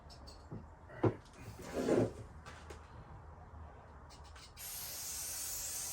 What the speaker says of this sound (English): See if we can spray right down the track.